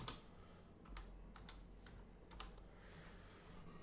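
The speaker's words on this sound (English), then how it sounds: "They don't like you typing fast in this game." Fast typing on a computer keyboard, a quick, irregular run of soft clicks and taps that is close and faint, with no voices.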